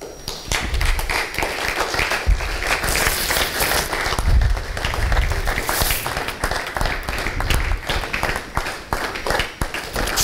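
Loud, sustained applause fills a church ceremony honouring women servants of God with honorary titles, dense clapping continuing steadily throughout with a few thumps beneath it.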